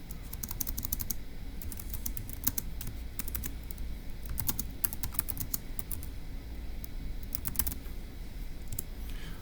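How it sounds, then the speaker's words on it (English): Computer keyboard typing notes while solving a Turing Machine puzzle, rapid clusters of close key clicks in uneven bursts with brief pauses, over a quiet background hum. "So let's go ahead and type that up in our notes."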